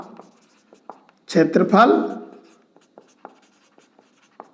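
During a class 7 maths lesson on the area of a square, chalk or a marker taps and scratches on a board in short, scattered strokes, with a teacher speaking briefly over them.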